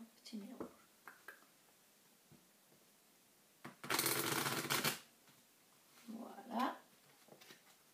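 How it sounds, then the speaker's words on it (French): A deck of playing cards riffled during a card trick, one quick loud burst of shuffling about a second long, surrounded by quiet handling noises and soft speech. "on va retourner ce paquet-ci et on va faire aussi un petit mélange"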